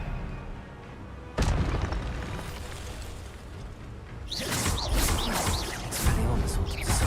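Expelliarmus spell in Hogwarts Legacy fired with a sudden loud blast, then sustained rumbling combat noise with swishing, chirping magical effects layered over it.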